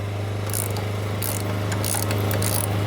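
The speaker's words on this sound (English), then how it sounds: "removing the caliper once again using a 12mm socket to loosen up the caliper mounting bolts" A 12mm socket ratchet loosens the front brake caliper mounting bolts on a Yamaha FJ-09 motorcycle, giving several short bursts of close, fast clicking over a steady low hum.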